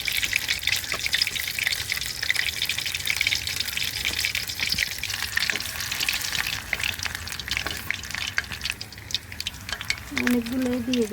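Battered cauliflower pakoras fry in hot oil with a steady, dense sizzle and bubbling that runs unbroken throughout, close and moderately loud.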